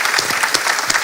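A church congregation applauds in a dense, steady burst of clapping, loud and close, lasting only about a second.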